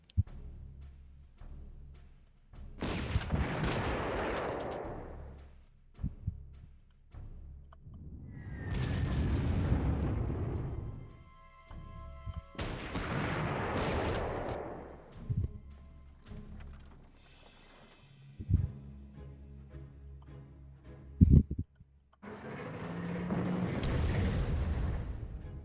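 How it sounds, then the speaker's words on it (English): Artillery fire in a WWII strategy video game, a series of heavy booming blasts with rolling rumbling tails, four or five big detonations spaced a few seconds apart plus sharper smaller cracks between them, no talk. "Look at all that artillery."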